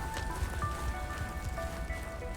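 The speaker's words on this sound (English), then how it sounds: "There is the hail going through these boulders?" Hail pattering steadily across boulders in the survival game Subnautica Below Zero, a dense, even rain-like crackle of small impacts that stays fairly quiet throughout.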